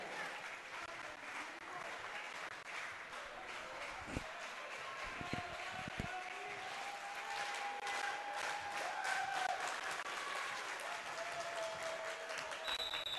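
Large student fan section roaring and applauding at a high school volleyball match in a gym, a loud steady crowd wash with a few sharp claps and shouts, distant announcer-like talk faintly underneath.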